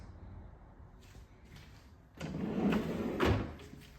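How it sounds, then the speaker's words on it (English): Pull-out pot and pan drawers in a modular farmhouse kitchen, sliding open and shut with soft rolling runs and then a louder thudding close, heard up close with no talking. "Pot and pan drawers."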